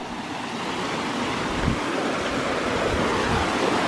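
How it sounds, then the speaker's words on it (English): Steady, dense rushing water from a real waterfall along a cold spring hiking trail in upstate New York, a continuous roar heard close and fairly loud throughout, with no talking. "Found a real waterfall."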